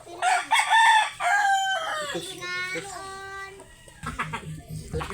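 A rooster crows loudly with rising harmonic calls, followed by hens clucking nearby, with a voice speaking briefly.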